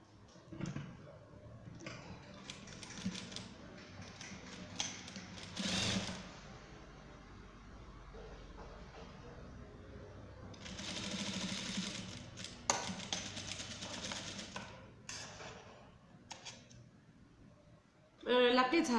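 Sewing machine stitching fabric for a hair turban, with quiet, uneven bursts of rapid needle clatter that start and stop over the whole stretch, close by, while a person talks.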